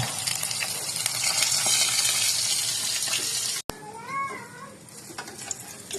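Hilsa fish rubbed with turmeric and salt fry in hot oil in a village home kitchen, a steady close hiss that drops away abruptly, then comes back quieter with a short whining animal cry.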